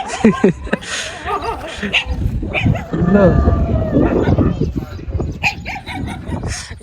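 Several dogs bark and yip nearby in an outdoor spot, loud overlapping barks in bursts with some whimpering, while people talk in between.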